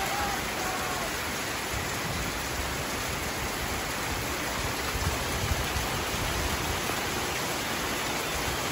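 Heavy rain falls in a steady, dense wash of noise that runs without pause, loud and close, with no voices.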